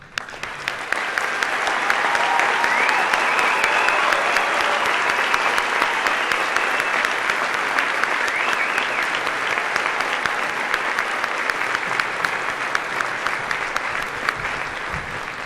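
An audience at a high school graduation gives graduating seniors a long, sustained burst of applause. The clapping is dense and steady, fills the hall, and goes on for about fifteen seconds with no talk over it.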